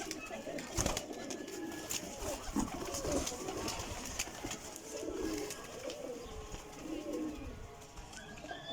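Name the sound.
Teddy pigeons cooing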